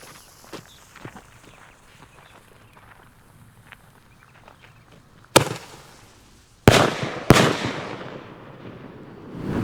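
Several loud firework cakes go off close by, one after another, each leaving a crackling, fizzing tail, after some faint scattered popping.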